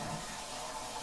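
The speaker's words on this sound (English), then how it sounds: "seat and lid close, and then it does a half flush" An EPLO smart toilet bidet runs a half flush, giving a steady rush of water at moderate loudness that continues unbroken for the whole moment, with no voices.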